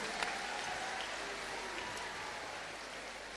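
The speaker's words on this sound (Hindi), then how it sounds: "इनको जोरदार ताली बजा करके धन्यवाद दो।" Crowd applause at an outdoor havan gathering, a dense, even patter of many hands clapping continuously at moderate loudness.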